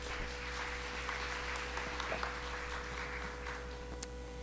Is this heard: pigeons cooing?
no